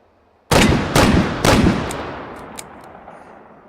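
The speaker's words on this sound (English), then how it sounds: "I will shoot it one-handed and you'll see the difference" Three loud, close gunshots from a handgun fired one-handed in the VR game Hot Dogs Horseshoes & Hand Grenades, spaced about half a second apart, each a sharp crack with a fading tail, followed by faint clicking.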